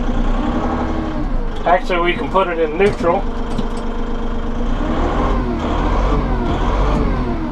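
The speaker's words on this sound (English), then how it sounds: "Listen to the engine roar as I push the pedal here." Engine of a Massey Ferguson 1735M compact tractor with premium cab, a steady diesel drone that rises and falls as the throttle changes, with someone talking over it.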